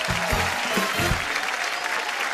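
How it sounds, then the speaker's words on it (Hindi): A game-show studio audience claps steadily for a competing family, dense applause holding throughout, with brief low musical stings at the start beneath it. "तालियां आपके लिए"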